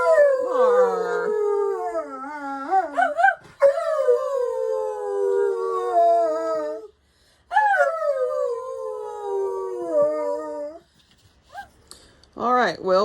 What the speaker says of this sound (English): we had to stop and have a howl break